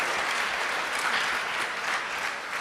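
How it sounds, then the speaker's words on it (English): Steady, dense applause from an audience at a Sunday devotional program honoring a speaker, a continuous wash of many hands clapping at even loudness throughout. "Can we give a big round of applause for His Grace Rupanuga Prabhu"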